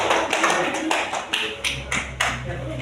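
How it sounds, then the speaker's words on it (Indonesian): A classroom of pupils claps hands together on cue, a burst of irregular, fairly close claps that thins into a few separate slaps, with faint voices underneath. "Oke, tepuk tangan."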